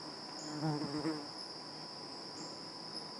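A steady bee buzz drones close by, with a faint brief murmur of speech partway through, the buzzing continuing quietly throughout.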